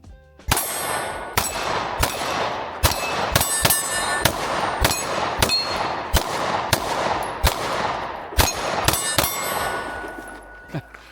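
A Shield X and a CSX E Series pistol are fired in a rapid string of about fifteen sharp shots, with metallic clangs as rounds strike a steel target, spaced under a second apart and ringing briefly.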